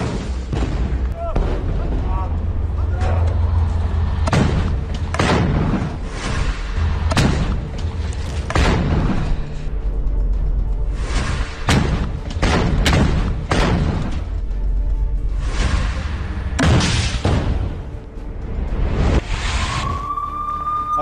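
Repeated heavy blasts and booms from tanks being hit in war footage from the Israel-Palestine conflict, a dense series of loud detonations over a constant rumbling background, with a few sharper bursts spaced throughout.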